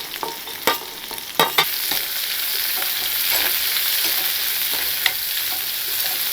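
Chopped green chili and shallots sizzle steadily in a hot pan, a continuous close frying hiss broken by a few sharp scrapes and knocks of a stirring spoon early on.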